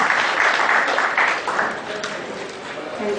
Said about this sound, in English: I also request CA D S Vivek to kindly welcome our speaker by presenting his oral book with a round of applause.